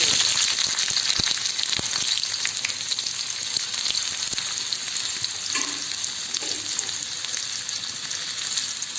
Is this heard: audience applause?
no